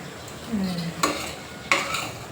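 Ground onion-tomato masala with cinnamon, cloves and coriander being mixed in a pan: soft scraping strokes, a few sharp spoon clinks against the metal, close and fairly quiet, no voices.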